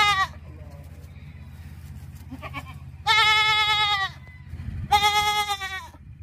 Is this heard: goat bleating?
yes